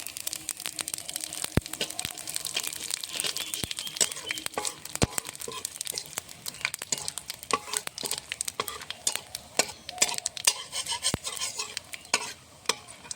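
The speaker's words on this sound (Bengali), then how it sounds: "মাছ ভাজার তেলে আমি কটা জিরে ভেজে তুলে নেব।" Cumin seeds fry in leftover fish-frying oil with a steady, dense crackle and sizzle, broken by sharp clicks and taps of a utensil against the pan, close and continuous without speech.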